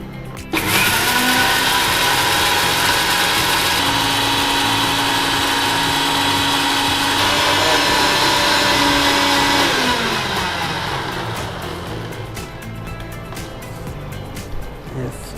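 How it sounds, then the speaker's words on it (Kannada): A mixer grinder grinds ragi with jaggery, a loud, steady motor whir running nearly the whole clip, its pitch shifting slightly partway through before easing off slightly toward the end. "ಈಗ ಸ್ವಲ್ಪ ಗ್ರೈಂಡ್ ಮಾಡುವ, ಮತ್ತೆ ನೀರು ಹಾಕುವ."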